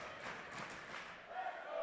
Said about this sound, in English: As you can hear, a very vocal crowd from all the way up the QE2 from Calgary